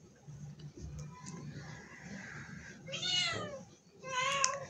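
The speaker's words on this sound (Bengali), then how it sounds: "বিড়ালের মিউ সবাই হয়তো শুনতে পাচ্ছেন।" A pet cat meows indoors in a kitchen, two clear rising meows close by, the second louder, with soft household noise between them.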